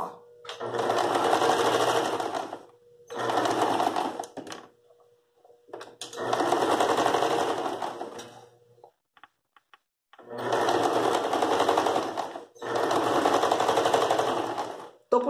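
Sewing machine stitching a dish towel border, loud close motor whirring in five bursts of one to three seconds separated by short quiet pauses, no voices.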